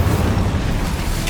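Incendio fire spell cast in Hogwarts Legacy, a steady low roaring rumble of flame that holds evenly across the whole short moment with no distinct attack, loud and close.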